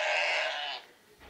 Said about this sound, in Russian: Баран.